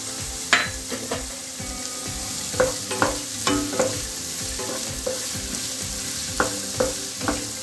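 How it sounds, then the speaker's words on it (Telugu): Green chillies fry in a pan for a country chicken curry, crackling softly while a spoon stirs them. Sharp scrapes and clinks come at irregular intervals over a low, steady sizzle, close by and with no voices. "కొంచెం ఫ్రై అవ్వనిద్దాం."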